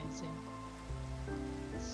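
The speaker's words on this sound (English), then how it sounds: "Thank you for the rain. I just love the rain." Rain falls in the video game Minecraft as a soft, even patter, heard faintly beneath stepping tonal game sounds through the short stretch.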